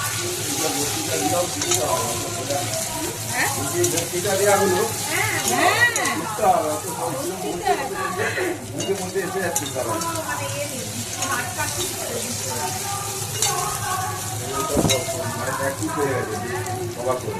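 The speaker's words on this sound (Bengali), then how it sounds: "পেঁয়াজ আর আলু একসাথে ভালোভাবে নেড়ে নেবে" Potatoes and onions sizzle steadily as they fry in oil in a pan while being stirred, a dense, continuous frying hiss that runs throughout with faint scraping from the stirring.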